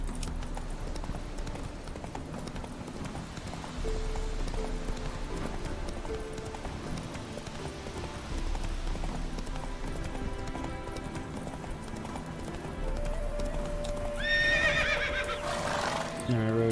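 Roach, Geralt's horse in The Witcher 3, clip-clops along at a run with a whinny near the end, all over steady game music and ambience.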